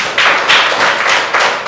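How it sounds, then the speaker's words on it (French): A classroom group clapping on a French teacher's request, a quick run of close, loud, slightly uneven hand claps in a short burst with no talking. "applaudissez"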